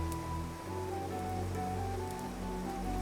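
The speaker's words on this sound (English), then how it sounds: "we're getting rain for the first time." Steady rain in the video game Clanfolk hisses evenly throughout, a soft continuous patter under sustained low musical tones.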